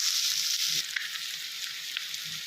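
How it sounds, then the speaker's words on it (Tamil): Two chopped onions sizzle and crackle steadily in a hot pan with chopped garlic, with faint stirring sounds underneath. "இப்போ இதில் 2 நறுக்கின வெங்காயம், நல்லா வணக்கிக்கலாம்."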